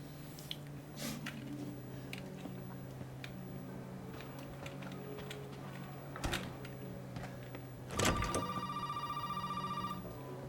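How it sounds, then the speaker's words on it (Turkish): A telephone rings in the survival horror game Resident Evil 7, a regular electronic ring pulsing near the end over a low ambient game background, with no talk. "Telefon çalıyor."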